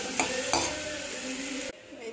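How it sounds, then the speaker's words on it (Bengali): Leafy greens (saag) fry in a pan with a steady sizzle, a couple of sharp utensil knocks against the pan early on, then the sound suddenly drops away near the end. "তো এগুলো জাস্ট ভাজা হবে"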